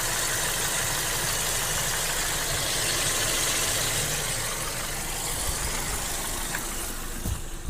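A Volkswagen Golf 5 with a 1.6 petrol engine, recently serviced with new spark plugs and gaskets after misfiring, idles at close range with an even, continuous hum and no voices.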